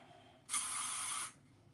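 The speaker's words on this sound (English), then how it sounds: "So you can go in and spray this, shake it like it owes you money, and then spray it at the roots" A short burst of finishing hairspray from an aerosol can, a bright even hiss lasting under a second, close and clear against a quiet room.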